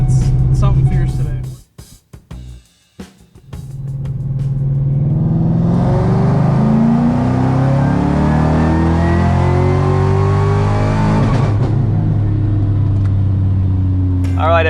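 Ford Shelby GT500 fitted with a VMP Gen3R supercharger roars through a loud, sustained high-rpm dyno pull on a chassis dyno, with supercharger whine, after a brief lull and a few short bursts of talk at the start.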